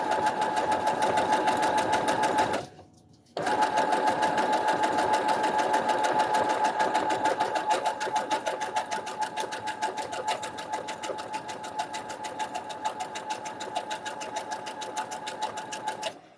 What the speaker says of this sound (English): I normally sew on a little bit faster speed, but I'm seriously just trying to keep the lines straight